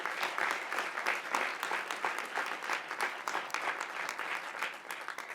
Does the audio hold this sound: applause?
yes